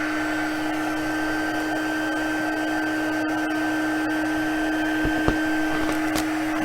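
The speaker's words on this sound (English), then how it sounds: "Here comes the heat tool again." A heat tool for embossing blows continuously with a steady whirring fan hiss and a constant high whine, close and even, ending with a few soft clicks and taps; no talk.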